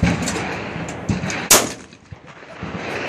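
Shotgun blasts at clay targets on an outdoor range, a few sharp reports spaced apart, the loudest midway, each with a short echoing tail.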